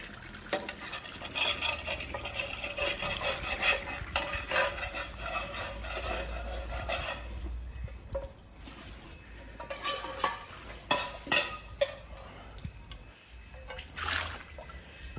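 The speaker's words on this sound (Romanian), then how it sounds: "Și acum face ouă ochiuri." Fried eggs sizzling in a frying pan in a rustic countryside kitchen: a steady crackling, spattering hiss close by, swelling and easing in uneven bursts with scraping touches.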